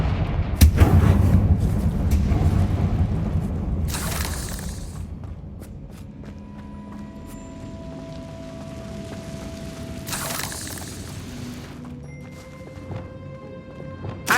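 Confringo spell explosions in the Hogwarts Legacy video game: heavy booming blasts at the start, again around four seconds and near ten seconds, separated by ringing tones and fading rumble.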